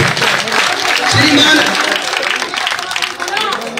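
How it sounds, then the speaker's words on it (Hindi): A crowd at an outdoor village political rally applauds, a continuous wash of clapping under a man announcing loudly over a public-address system. "जोरदार तालियों से अभिनंदन और स्वागत। तालियां बजती रहनी चाहिए, तालियों में थोड़ी सी कंजूसी है।"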